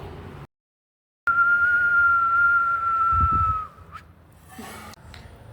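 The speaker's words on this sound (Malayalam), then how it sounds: "ആരാ അവിടെ ചൂളം അടിക്കുന്നേ" A person whistles a single long, steady note lasting a couple of seconds, fairly close and clear, followed by a brief breath and a short rising chirp, with no talking.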